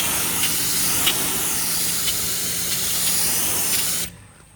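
A steady, loud hiss of spray sealant over a ceramic-coated surface runs unbroken for about four seconds, with a few faint clicks, then cuts off abruptly.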